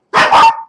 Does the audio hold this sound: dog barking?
yes